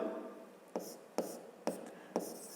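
A pen or chalk writes out a 5th-grade math exercise, four sharp taps each trailing into a short scratching stroke, close and quiet, with faint rustling between them.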